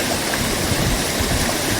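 Water pouring at a waterfall, a loud, unbroken rushing roar with splashing texture filling the short stretch, no voices.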